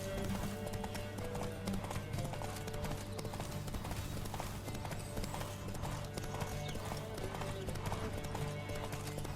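Roach the horse gallops in The Witcher 3, a steady, close run of hoofbeats that continues alone over game music, with a brief voice partway through.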